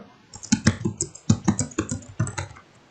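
Close, crisp computer keyboard typing while a short note is entered in software: irregular bursts of clicky keystrokes with brief pauses between them, no voice.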